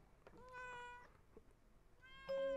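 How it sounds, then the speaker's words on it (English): A cat in the horror game Layers of Fear: Inheritance meows several times, with drawn-out, wavering cries and one louder, sustained meow near the end, heard alone over a low background. "Is that a fucking cat?"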